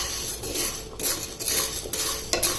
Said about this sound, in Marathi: साबुदाणा हलकासा आता भाजून घ्यायचा आहे।